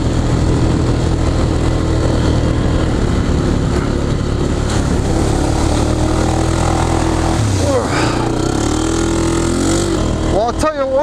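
Steady loud ATV engine drone during a ride on new Bear Claw tires, continuous and close with rising and falling revs near the end, with no talk.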